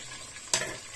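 Big pieces of potato poach in olive oil in a pot over medium heat for an artichoke soup, giving a faint steady sizzle with a brief louder burst of crackle and stirring partway through, no voices.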